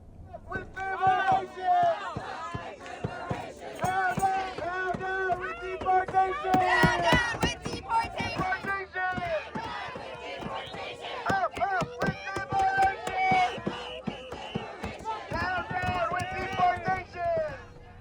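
A protest crowd outside an immigration detention center in Chicago or Portland chants slogans and shouts, a dense, continuous roar of many voices with rhythmic surges throughout.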